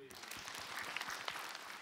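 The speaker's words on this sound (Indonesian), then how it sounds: "Tepuk tangan dulu dong." Audience clapping during an Islamic religious lecture, a fairly faint patter of applause with the speech-like murmur of the gathering mixed in, lasting under two seconds.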